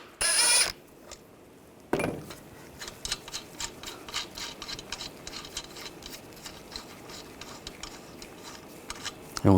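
Nuts snugged down onto exhaust manifold studs on a 2009-2017 Volkswagen Tiguan turbocharger setup, a ratchet wrench clicking in quick faint ticks after a couple of louder metallic clanks, with no talking.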